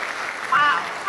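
Applause from the audience at a music hall of fame induction ceremony, a steady wash of clapping that swells slightly midway while a voice carries over it.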